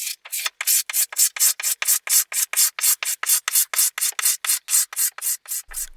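Old varnish is scraped off a beat-up wooden coffee table in quick, even strokes, about two dozen rasping passes close up with short gaps between them and no voices.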